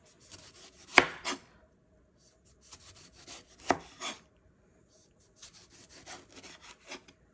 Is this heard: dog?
no